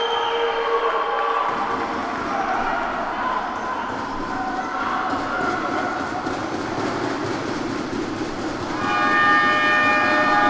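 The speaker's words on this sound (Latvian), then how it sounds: "Un skan signāls, kas vēsta par šī aizraujošā mača beigām." A loud horn signals the end of a futsal match between Raba and Nikars, sounding out over crowd noise in an indoor arena, with a sustained tone rising toward the close.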